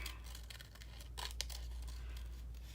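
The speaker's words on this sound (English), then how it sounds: "I'm going to trim this out of just a hair" Scissors trimming a hair off a paper edge for ephemera crafting, quiet close snips with a couple of sharper cuts in the middle, against a faint low hum.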